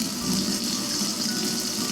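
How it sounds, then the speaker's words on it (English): Water poured by hand over a baby during a bath, a continuous close splashing gush that runs steadily and alone. "I fill up my water again, and I pour where I scrubbed her"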